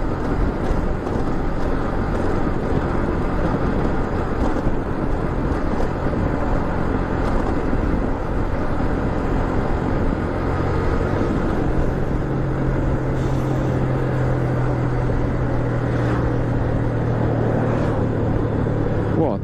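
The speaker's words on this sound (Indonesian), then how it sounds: "Wow, truk tebu." A heavy sugarcane truck rumbling past on a forest road between Saradan and Caruban near Madiun, a loud continuous engine drone and road roar with a rising low hum partway through, heard from inside a passing vehicle.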